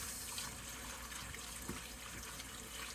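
Kitchen tap runs in a steady, faint stream into the sink while produce is rinsed by hand, with small splashes and soft clatters breaking through the even flow.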